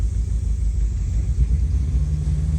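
A 1956 Ford Courier wagon's engine idles steadily, a close, continuous low rumble with a slightly uneven pulse and no one talking over it.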